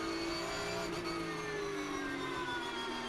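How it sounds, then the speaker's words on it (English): A Porsche Carrera Cup race car, recorded onboard during a 2021 Porsche Carrera Cup Deutschland race at Zandvoort, holds a loud, continuous high engine whine with slowly shifting pitch as it runs flat out. "as we ride on board with Jan-Erik Slooten, the number 96 car, currently in 22nd place"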